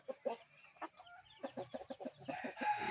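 Small native labuyo red junglefowl hens give a run of quick, close clucks, some clustered and some spaced, with a soft rising call near the start and no talking.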